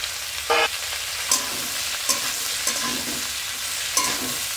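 Black cumin, chopped onion, garlic, green chili and cut water lily stems sizzling in a pan as they fry, with a steady hiss broken by repeated scrapes and stirs of a spatula.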